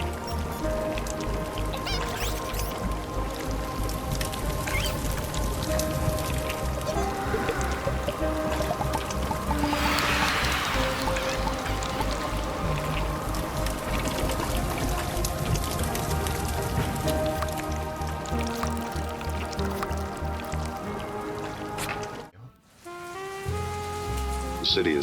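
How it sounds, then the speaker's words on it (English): Rain pours onto city pavement at night in World of Goo 2, a dense and continuous patter with layered game music tones beneath it, then briefly cut off near the end before resuming. "The night sky pours down rain like it has a personal grudge."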